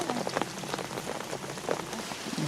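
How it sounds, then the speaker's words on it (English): Heavy rain pours down steadily on outdoor surfaces throughout a wet autumn day, a dense continuous patter with scattered louder drips close by, and no voices. "It hasn't stopped for a minute, has it, all day this rain?"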